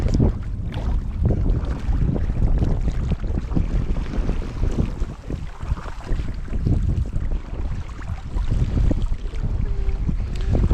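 Gusty wind buffets the microphone while a canoe travels downriver on the West Branch of the Spanish River, with a loud, continuous rumble and paddle splashes beneath it.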